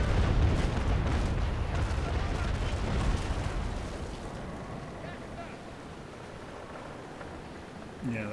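Cannon fire from sailing warships in the naval combat game Naval Action: a dense, rumbling broadside roar that fills the first three seconds, then fades into a lower wash, with a sharp thump near the end.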